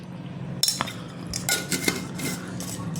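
A spoon mixes chicken seasoned with black pepper, Kashmiri red chili powder and a little cumin in a bowl. It clinks and scrapes against the dish in irregular bursts, close up and moderately loud.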